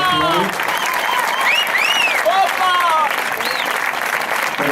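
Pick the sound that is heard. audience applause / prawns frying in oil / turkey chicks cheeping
audience applause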